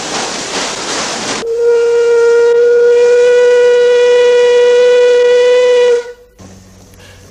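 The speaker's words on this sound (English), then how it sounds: "A last whistle blast to call any late arrivals to the wharf" The Murray River paddle steamer Melbourne at the Mildura wharf gives one long, loud, steady whistle blast of about four and a half seconds, after a stretch of rushing steam, then cuts off into quieter background noise.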